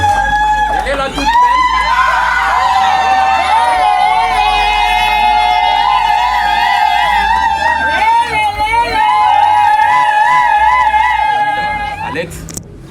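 Wedding guests cheer loudly to welcome the bride. A crowd whoops and shouts continuously for most of the stretch, with a voice speaking over a microphone and music mixed in before the noise fades out at the end.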